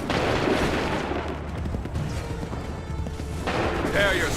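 Musket volleys in Assassin's Creed 3, crackling massed gunfire and booms in a noisy battle, with shouted voices mixed in and a fresh burst near the end.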